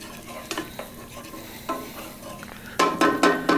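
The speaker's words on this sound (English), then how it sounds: "We want to stir this up, let it get heated up" Greens being stirred in a pan over a hot plate at medium heat, with a soft frying sizzle underneath and several distinct scraping stir strokes clustered near the end, close and fairly loud, with no talking.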